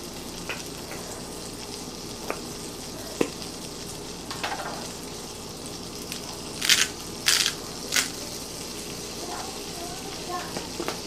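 Chopped onions sweating with salt in a pan, a low steady sizzle running throughout, broken by a few sharp scrapes and clicks of utensils against the pan.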